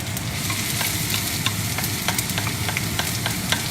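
Garlic and white onion stir-fry for Chinese sausage fried rice, a steady close sizzle punctuated by rapid clicking spatula strokes against the pan, with no talking.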